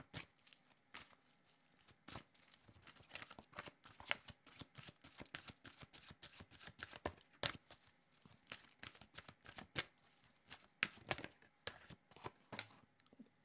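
Oracle cards being shuffled up close, a steady run of quick papery riffles and flicks lasting the whole stretch with no voices.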